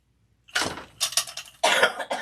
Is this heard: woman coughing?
yes